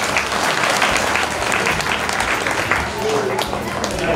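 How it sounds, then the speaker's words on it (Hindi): Loud, continuous audience applause after a children's performance at a Gandhi Jayanti event in Bhilwara, steady throughout with faint voices beneath it. "इनके लिए जोरदार तालियों से इनका स्वागत है"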